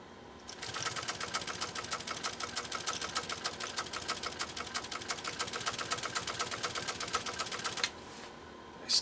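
A Pfaff 130-6 sewing machine stitches a modified zigzag, running a fast, even mechanical clatter close by for about seven seconds before it stops abruptly.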